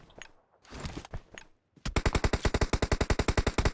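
Rapid automatic gunfire from PUBG Mobile hammers out in a fast, steady burst, loud and close, preceded by a few scattered shots and rustling noises.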